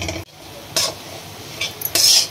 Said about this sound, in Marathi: आता आपण त्याच्यामध्ये हा गूळ टाकून घेऊ। व्यवस्थित हलवू।